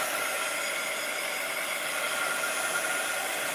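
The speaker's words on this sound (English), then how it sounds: "Hair blower works just as well." Hair dryer blowing on a sticky Chalk Couture stencil transfer, a continuous, loud, steady whir with an airy hiss, close to the microphone and running alone without talk.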